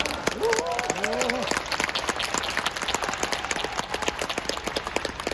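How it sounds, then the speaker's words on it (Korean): A seminar audience at a Bangkok leadership training event claps for two company executives, a steady, fairly loud wash of applause lasting several seconds, with a voice speaking briefly over its opening moments. "이분들을 위해서 박수 한번 보내주시는 건 어떨까요?"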